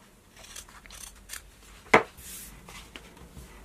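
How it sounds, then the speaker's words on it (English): Scissors cut through fabric along diagonal lines, with faint rustling handling and one distinct sharp snip partway through, close and quiet overall. "you can cut along the diagonal lines"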